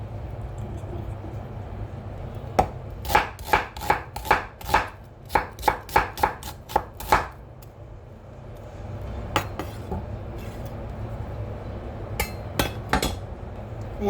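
A knife chops an onion on a cutting board, first in a quick, regular run of about a dozen sharp, close strikes, then after a pause a few scattered chops over faint room hum.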